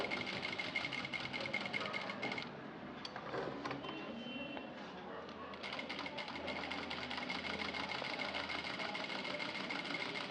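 A sewing machine stitches along the neck of a tucked blouse, a fast continuous mechanical rattle with a brief slower stretch in the middle, close and steady.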